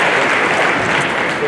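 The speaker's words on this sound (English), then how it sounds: "Let's give her a big round of applause." Brief, steady burst of audience applause at an elementary school holiday chorus concert: a dense wash of clapping that fills the room evenly, with no pauses.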